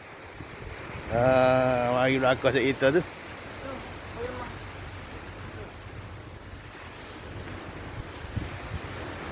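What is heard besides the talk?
ocean waves at the beach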